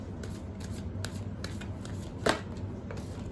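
Tarot cards are shuffled and a card is pulled from the deck: a quiet run of soft, rapid riffling flicks with one sharper snap partway through, close and without speech.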